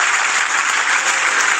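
West Tigers fans at Leichhardt Oval applaud during an NRL match against the North Queensland Cowboys, a dense, steady wash of crowd clapping that holds at full strength for under two seconds with no voices.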